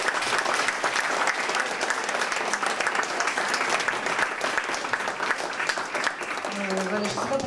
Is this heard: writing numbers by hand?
no